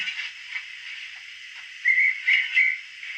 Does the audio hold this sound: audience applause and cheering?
no